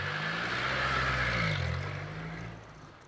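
A vehicle is moved forward, its engine droning and revving briefly in the middle before the sound eases off and fades toward the end.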